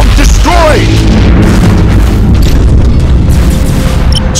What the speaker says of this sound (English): Enemy defense platform destroyed!